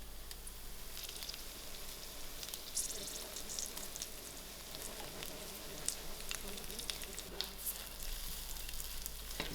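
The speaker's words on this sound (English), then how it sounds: "I'm going to slit my 2 chillies that I have, add it into the oil, and also slice up my garlic finely" Sliced chillies and garlic fry in hot oil for a Durban-style fish curry, a steady soft sizzle and crackle running evenly throughout at moderate level with no talking.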